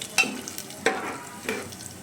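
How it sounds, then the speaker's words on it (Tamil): Mustard seeds, cumin, urad dal and chana dal frying in oil, a quiet hiss broken by three spaced bursts of stirring and scraping in the pan. "ஒரு 1 மினிட் போல் ஃப்ரை பண்ணிடலாம்"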